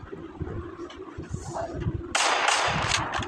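Video game gunfire in a multiplayer shooter, a sharp loud burst of rapid shots breaking in after a stretch of softer game noise and low rumble, then continuing as a dense crackling volley.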